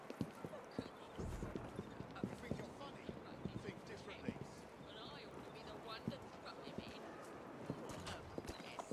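Steady clip-clop of hooves on a hard road with rolling carriage wheel rumble in Assassin's Creed Syndicate, continuous throughout, with someone talking over it.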